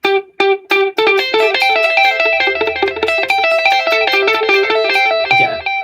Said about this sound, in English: you do a delay and you turn it up so the volume is as equal as high as the notes you're playing